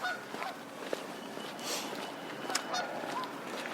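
Geese at a public beach give a few scattered honks over an open outdoor background, some close and sharp, others softer and farther off.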